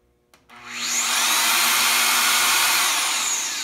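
A modular tubing notcher powers up to cope a tube at an out-of-plane angle, starting with a click and then building into a loud, steady high-pitched whine and hiss of cutting that holds close and constant.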